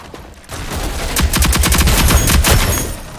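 Light machine gun firing in the Rogue Company shooter, a long loud rapid burst of evenly spaced shots close up, with no talk over it.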